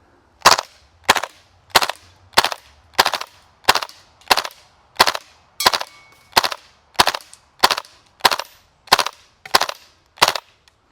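An airsoft UMP45 replica fitted with a Tapp HPA shotgun-shell adapter fires in burst mode: about sixteen sharp, loud snaps in a steady, evenly spaced rhythm, close up, with no talking.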